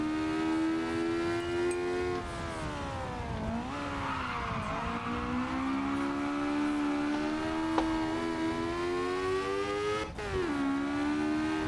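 A team car's engine revs hard, sweeping up to over 12,000 RPM and holding a loud, high, steady whine with brief dips as the throttle lifts and returns, with no speech.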